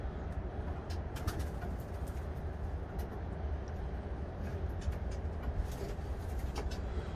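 Pigeons coo softly and repeatedly against a low background hum, faint and somewhat distant, with no talking.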